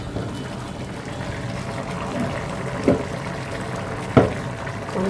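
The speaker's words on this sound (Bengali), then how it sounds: "পরিমাণ মতো পানি দিয়ে দেবেন" Water is poured into a pot of rice that has been fried until fragrant, a soft liquid splash with a couple of brief clunks, close by and moderately quiet, with no talking.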